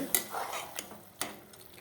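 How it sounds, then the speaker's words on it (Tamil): Basmati rice and water stirred in a pressure cooker, a few close scraping strokes and light metallic clinks of a spoon against the pot, brief and fairly quiet, with no talk over it. "கிண்டி விட்டு பார்க்கலாம் தண்ணி போதுமான்ட்டு"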